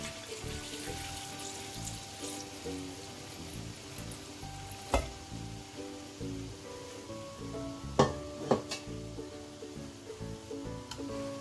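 Broth for Sundanese chicken noodles simmering and reducing in a pan, giving a steady close-up sizzle and bubbling with a few brief clinks from a utensil.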